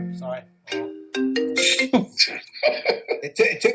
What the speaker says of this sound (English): Somebody's phone. Somebody's calling my daughter.